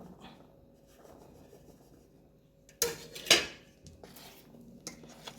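Tutti frutti goes into custard powder vanilla cake batter in a bowl, with quiet scraping followed by a couple of louder clinks of a spoon against the bowl, and no talking.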